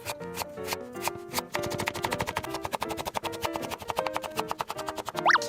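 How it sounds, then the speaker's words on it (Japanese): A knife julienne-cuts peeled daikon radish on a board in quick, even strokes, a rapid rhythmic tapping that speeds up partway through, with light music playing underneath. "大根 200g の皮を剥いて千切りします"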